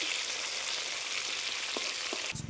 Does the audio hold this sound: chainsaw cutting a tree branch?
no